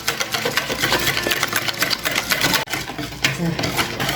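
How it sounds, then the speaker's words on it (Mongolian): An electric hand mixer runs continuously while making cake batter, a steady motor whir with rattling beaters, held close and fairly loud throughout. "одоо гар миксер гэж одоо энэ гар миксерийг ашиглах байна"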